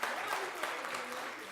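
Audience applause at a school talent show, a brief burst of clapping with some cheering, moderately distant and fairly even.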